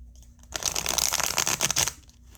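Close, crisp rattle of tarot cards being shuffled in one quick riffle, a dense flurry of papery flicks lasting over a second before fading.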